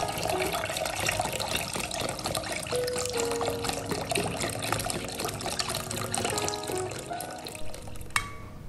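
Full cream milk, 1000 ml, pours steadily into a container for a Ramadan iftar drink, a continuous liquid trickle and splash running throughout with no talk.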